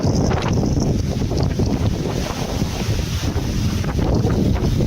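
Loud, steady typhoon wind roaring and buffeting the microphone without pause, a dense rushing blast with no voices, in Pangasinan, Philippines.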